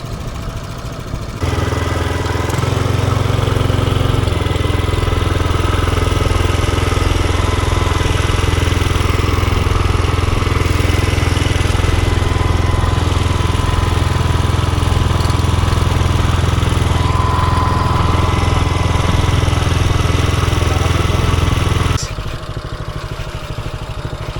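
A steady, loud motor drone runs continuously for about twenty seconds, a chugging small fishing boat engine trolling on Caliraya Lake, with clattering mechanical texture and no talking.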